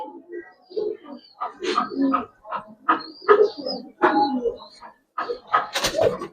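Giribaz colouring pigeons cooing close by in a quiet spot, a steady run of soft throaty coos and warbles from several birds, rising and falling with short pauses.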